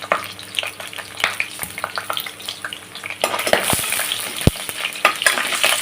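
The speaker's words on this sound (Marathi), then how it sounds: "तेल टाकलेलं आहे त्यामध्ये लसूण टाकूया इथे मी सात ते आठ लसणाच्या पाकळ्या चेचून घेतलेल्या आहेत" Crushed garlic cloves, seven or eight of them, sizzle in hot oil in a pan, a steady crackling fry with intermittent scraping stirs and clinks. It grows louder and busier midway, and no one speaks.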